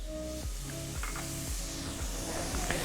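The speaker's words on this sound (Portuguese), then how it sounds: "alho, cebola e pimenta de cheiro no azeite de dendê, panela bem quente" Food sizzles and crackles steadily in a hot pan, with occasional scraping and stirring sounds over the continuous frying hiss.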